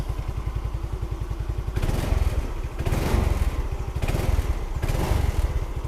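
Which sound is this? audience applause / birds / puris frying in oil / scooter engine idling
scooter engine idling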